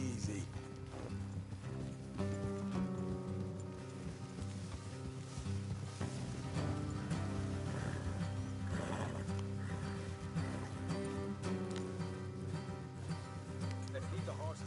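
Horses ridden along a road in the Red Dead Redemption 2 video game, hooves clopping steadily with an occasional whinny, set under continuous talk and background music throughout.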